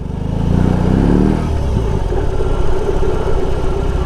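BMW R 18 Transcontinental motorcycle engine idling up close, a steady, throbbing low rumble that holds evenly throughout with a slight shift in tone partway through.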